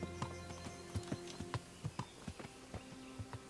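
Horse hooves clip-clop at a steady walking rhythm in the medieval game Kingdom Come: Deliverance, moderately close, over a quiet tonal background with no talk.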